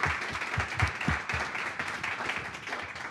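Audience applause closing a talk on product innovation in news, a broad steady patter of clapping with a few sharper claps standing out near the start, lasting about three seconds.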